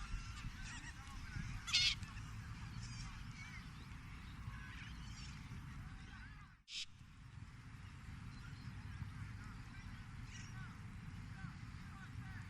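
A flock of little corellas, small white cockatoos, calls steadily through dense outdoor bird noise, harsh honking cries rising above the constant chatter, with one sharp loud burst early and a brief dip midway.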